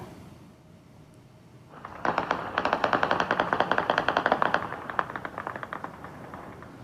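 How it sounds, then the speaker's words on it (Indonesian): Celebratory automatic gunfire shot into the air over Beirut after a ceasefire, a sudden sustained burst of rapid, closely spaced shots lasting several seconds, rising out of faint background noise and thinning toward the end. "Warga Lebanon melepaskan tembakan ke udara merayakan gencatan senjata antara Lebanon dan Israel."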